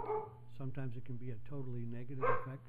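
A dog barks and yips indoors, a few short faint barks in the room beneath a man's ongoing speech.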